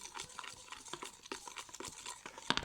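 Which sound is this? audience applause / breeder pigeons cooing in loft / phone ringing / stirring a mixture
stirring a mixture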